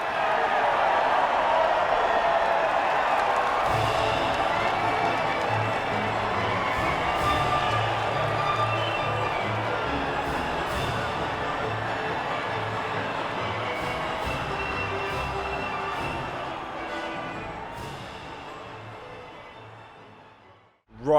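Crowd cheering at the podium after an F2 feature race at the Bahrain Grand Prix in a racing video game: a loud, steady broadband roar that slowly fades and then cuts off, with no talking.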